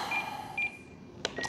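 An RC radio transmitter gives short electronic beeps as its timer is cleared during setup of an E-flite Eratix 3D FF 860mm foam plane, a few quick tones close up over faint room noise.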